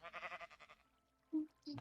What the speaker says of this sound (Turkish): Bu koyun buradan ne yapıyor?